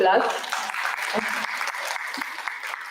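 An audience at a live history talk in Orlando, Florida claps steadily for a few seconds, a full, even patter of many hands with some voices mixed in.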